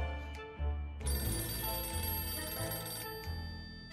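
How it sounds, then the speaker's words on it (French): A telephone rings in the video game 60 Seconds, a loud electronic ringtone starting after a short pause and holding steady for several seconds, alone without talk. "Téléphone."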